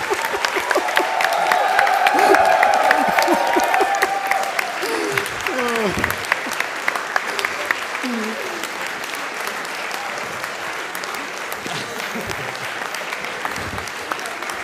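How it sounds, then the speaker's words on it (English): An AGDQ audience gives a standing ovation, sustained loud applause and crowd noise with people talking over it, the clapping gradually thinning. "You're gonna have standing ovation."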